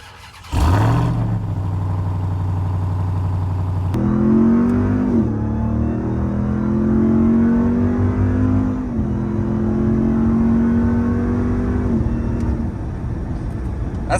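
A Ram TRX Hellcat pickup truck with a 702-horsepower supercharged engine starts up and accelerates hard on a drive, its loud engine note climbing through gears with steady revving and no talk.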